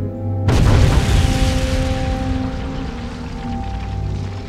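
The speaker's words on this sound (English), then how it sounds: "The moment of the explosion has been documented from three different angles." A reenacted War of 1812 explosion goes off sharply after a half-second of quiet, a loud deep boom followed by a long rumbling, crackling decay with debris pattering down.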